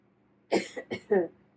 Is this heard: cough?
yes